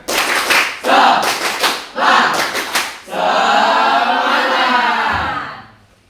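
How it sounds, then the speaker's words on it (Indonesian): A group claps a rhythmic 'tepuk semangat' spirit clap in a classroom, with a few sharp bursts of claps giving way to a sustained flurry under chanting voices that fades at the end. "Tepuk semangat."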